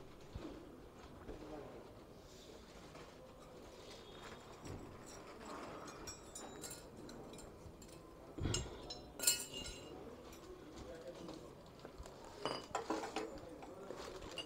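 MT15 motorcycle clutch plates are pulled out and handled, giving scattered light metallic clinks and rattles, mostly quiet with a few sharper knocks, and faint voices in the background.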